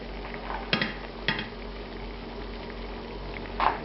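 Cream of celery soup comes up to a gentle simmer in a pot. It makes a quiet, steady bubbling with a few soft clinks of pot or utensil.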